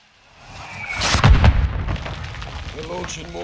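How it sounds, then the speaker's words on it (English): Mortar rounds fire in Call of Duty: Modern Warfare II. A rising rumble builds into heavy, booming blasts with crackling bursts, then rolls off into a lingering battlefield rumble. "We're launching mortars."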